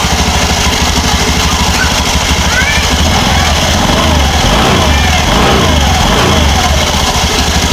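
A Honda automatic scooter engine with a noisy drive-belt pulley revs steadily up close, a continuous loud drone rising and falling across the whole stretch with some talk over it.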